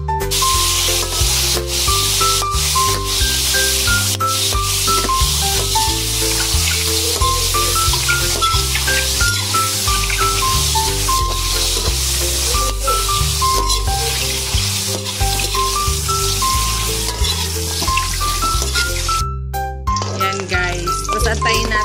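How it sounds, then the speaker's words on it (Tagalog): Pork longganisa frying in cooking oil, a steady, loud sizzle that runs without a break, mixed under background music throughout. "kumukulo na ang ating longganisa. Pork longganisa. At lagyan na natin siya ng mantika."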